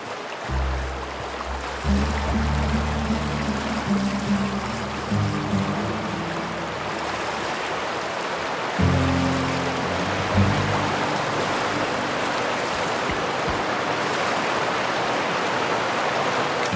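Steady broadband rush of a waterfall in the video game The Outer Worlds, loud and continuous throughout, with low droning game tones rising and falling underneath.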